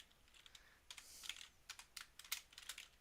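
Quiet, rapid typing on a computer keyboard, with uneven bursts of light key clicks close to the microphone and no voices.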